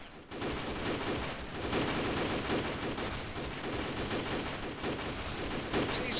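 Dense, sustained gunfire in the military shooter Arma 2, rapid overlapping automatic bursts and single shots crackling nonstop at close range, loud throughout.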